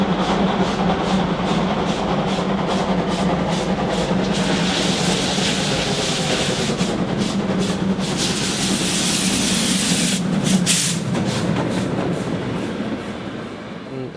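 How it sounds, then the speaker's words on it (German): Steam locomotive 50 3610 running at a steam locomotive gathering in Bebra, a loud continuous rolling rumble with a rhythmic chuffing beat, sharp bursts of steam near the end, then fading slightly. "Die andere Dampflok ist 50-36-10."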